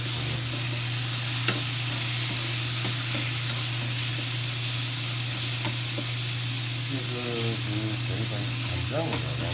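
Vegetables sizzle and fry in a pan with garlic seasoning, a steady, dense crackle held throughout with occasional stirring scrapes and a low steady hum underneath; brief faint voice-like sounds near the end.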